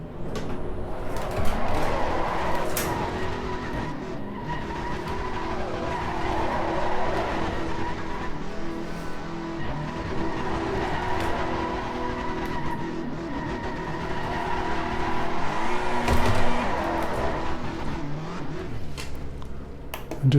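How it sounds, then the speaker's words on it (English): A GT race car in Assetto Corsa Competizione, traction control off, spins its wheels with tyre squeal over a revving engine, wavering pitch sweeps rising and falling continuously, close and loud throughout. "We all love a little bit of a wheel spin"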